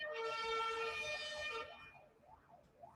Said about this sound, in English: Yeah, that's a European ambulance.